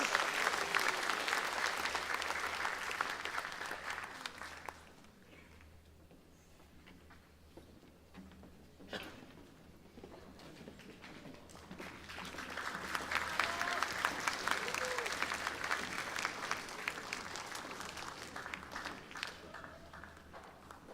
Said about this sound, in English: Please give a round of applause to our lovely Hanenamos as they leave the stage.